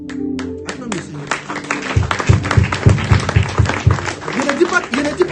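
A church congregation at a Sunday anointing service applauding, a swell of clapping from many hands building after a few scattered claps, mixed with a preacher's voice and crowd noise.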